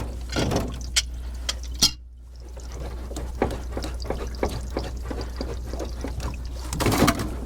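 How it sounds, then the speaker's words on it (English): Water drips and trickles from a loosened union on a pool heat pump, irregular splashes and taps close by over a steady low hum. "Until I see water being able to drip out."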